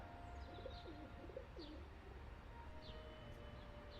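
Pigeons coo in a low, repeated warble from the Broken Sword 4 game world, with a few brief chirps above a steady ambient hum.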